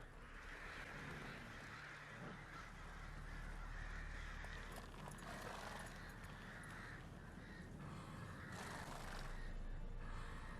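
Crow caws ring out inside the game Witcher 3: Wild Hunt at the Hanged Man's Tree, several calls spread over a steady ambient bed of wind and rustle, fairly clear, no speech.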